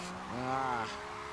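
A drift car slides around a track in a racing video game, its engine whining upward in a bright, rising tone with tire squeal for about half a second before easing off.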